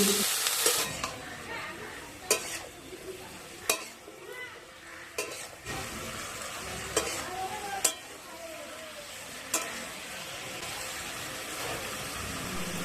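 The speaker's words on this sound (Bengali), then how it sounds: "সবজিগুলোর সাথে হলুদ আর লবণটা ভালো করে মিশিয়ে নিয়ে এইভাবে ঢাকা দিয়ে কিছুক্ষণ সাঁতলাতে রেখে দিলাম" Cauliflower stems with turmeric and salt sizzle in a pan, a steady frying hiss broken by repeated sharp clinks and scrapes of stirring.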